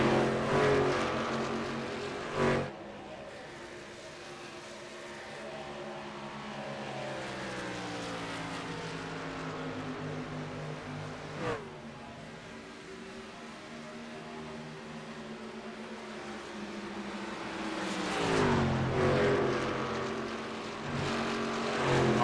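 Racing truck engines in a racing video game droning loud and close, their pitch sinking as revs drop mid-corner, then climbing again with brief sharp bursts between.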